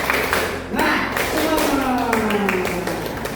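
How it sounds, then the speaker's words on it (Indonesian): A classroom group claps in a quick rhythmic spirit-clap pattern, a string of sharp hand claps in sets, with a voice calling out over the clapping. "ayo tepuk semangat"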